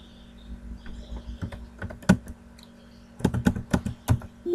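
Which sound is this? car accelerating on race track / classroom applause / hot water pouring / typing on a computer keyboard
typing on a computer keyboard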